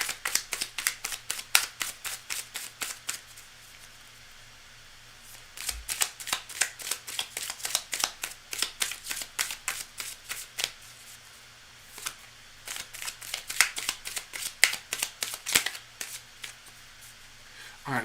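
A deck of cards being shuffled in repeated crisp riffling bursts, close and fairly quiet, with short pauses between rounds and no talking.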